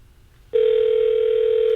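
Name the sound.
telephone ringing on outgoing call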